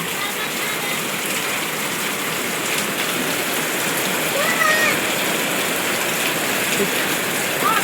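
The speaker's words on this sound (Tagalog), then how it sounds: "biglang bumuhos ang ulan" Heavy rain pours down in a steady, dense hiss, loud and unbroken from start to finish, with a few faint background voices barely showing through.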